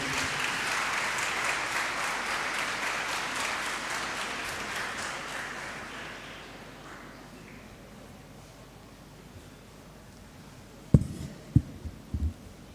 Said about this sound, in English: Please give him a round of applause so he does not feel nervous.